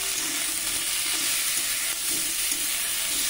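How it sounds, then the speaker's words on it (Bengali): Cauliflower and potatoes frying in a pan with turmeric, salt and onion, stirred through a steady loud sizzle with intermittent scraping strokes and no talk. "এখানে ফুলকপি আলু আমি একটু নেড়ে নিচ্ছি।"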